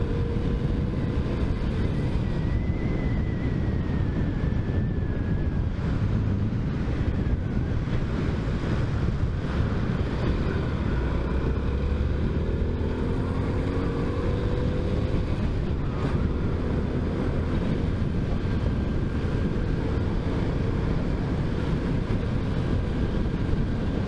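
Heavy wind rushes past a motorcycle riding along back roads, a loud, continuous broadband roar with only faint traces of the motor beneath it.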